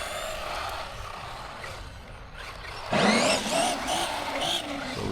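An ARRMA Gorgon 1/10-scale RC monster truck with a brushed motor whirs through a noisy outdoor run, its motor winding up sharply around the midpoint and surging in bursts over steady background noise.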